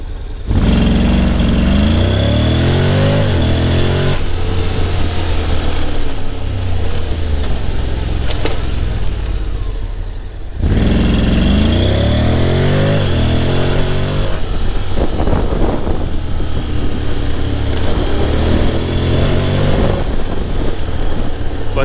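A 2024 Honda X-ADV scooter in sport mode accelerates over cobblestones, its engine droning loud and close with rising revs, a brief drop in power partway through before climbing again.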